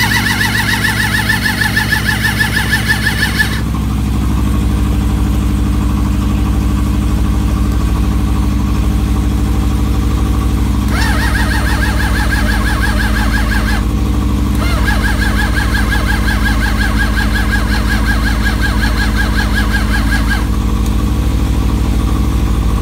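A Suzuki GSX600F motorcycle with a cold-start problem cranks and turns over, then settles into a loud, steady close-up engine idle that runs on throughout, with brief changes in tone along the way.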